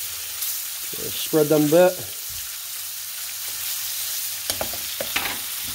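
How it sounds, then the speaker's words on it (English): Hunks of meat from the back legs sizzle and fry in butter in a pan, a steady hiss running throughout while a person speaks briefly over it. "Drop those right in that butter."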